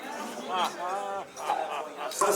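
Acoustic guitar played to mimic a corkscrew being twisted and a cork squeaking out, a series of short bending, wavering tones, fairly close, followed by a bright pluck, at a Louis Braille committee anniversary celebration.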